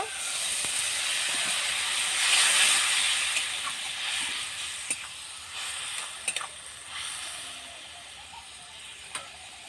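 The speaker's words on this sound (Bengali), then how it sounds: "খানিকটা জল দিয়ে দেব।" Water poured into a hot pan of spices sets off a steady hiss and sizzle that swells early and then settles into a softer crackle with a few sharp pops, close and alone.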